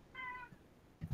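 A single short cat meow, clear and fairly close, followed by a brief soft thump against a quiet room background.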